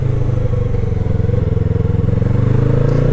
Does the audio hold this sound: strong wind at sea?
no